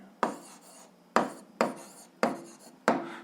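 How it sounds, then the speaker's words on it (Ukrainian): Five crisp pen strokes land close on a notebook page while an answer is written down, each a short scratchy tap with a quick fade, spaced roughly evenly apart. "записуємо відповідь, пишемо відповідь"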